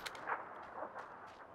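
Several distant gunshots crack from behind during a PUBG duos match, a quick scattered volley of pops over faint background ambience.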